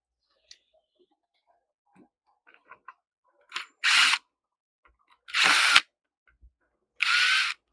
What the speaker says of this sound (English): because I have the recess in the back here, I can take the screws out